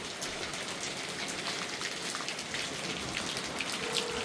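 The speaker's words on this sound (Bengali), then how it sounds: "তো এই যে বৃষ্টি শুরু হয়ে গেছে, লাস্ট রিসোর্ট থেকে বৃষ্টি।" Rain falls at a lakeshore resort in Rangamati, a steady close hiss of drops pattering on surfaces, moderately loud and continuous with no voices.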